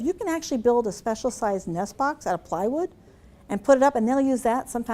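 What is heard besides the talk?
No everyday noises stand out.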